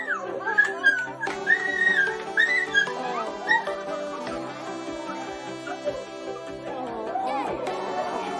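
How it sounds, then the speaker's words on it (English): An excited pup whimpers and whines in high, wavering cries while reunited with its long-lost owner, the yelps rising and falling in quick bursts over music and faint background voices. "This pup cannot contain his excitement after being reunited with his long-lost owner."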